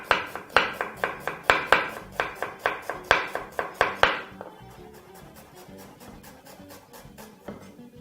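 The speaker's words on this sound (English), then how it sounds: "we're just going to chop this up really quickly" A knife chops an onion into half moons on a cutting board, about a dozen sharp, evenly paced knocks close up, then quieter scattered cuts as the rhythm breaks off.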